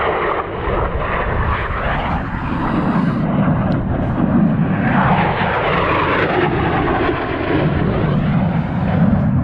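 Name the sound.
jet aircraft flying overhead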